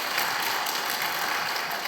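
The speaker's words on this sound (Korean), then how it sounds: "우리 큰 박수 보내주시기 바랍니다" A church congregation at a Wednesday Bible lecture breaks into applause: dense, steady clapping from many hands that holds at an even level for about two seconds, with no voices over it.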